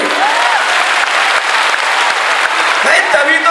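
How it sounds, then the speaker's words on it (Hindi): Loud, dense applause from a large crowd at a Kumbh gathering in Prayagraj, a steady wash of clapping that fills the whole stretch without letting up. "जोरदार ताली ठोको इनके लिए।"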